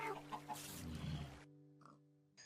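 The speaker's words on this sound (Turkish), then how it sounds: "Şurada bir tavuk var." A chicken clucks briefly in Minecraft, a few short quiet clucks after a burst of busier game noise, then near silence.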